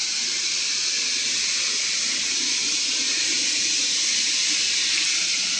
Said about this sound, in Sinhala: ඇල්ලේ සද්ද ඇහෙනව නේද